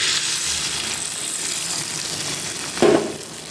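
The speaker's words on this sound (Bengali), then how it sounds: "এরপর অমলেটটা একটু ভাজা ভাজা হয়ে গেলে আমি ভেজে রাখা রুটিটা দিয়ে দেবো।" An omelette fries in a pan for egg rolls made with leftover rotis, giving a steady broadband sizzle throughout with a brief louder burst of crackle near the end; no voices.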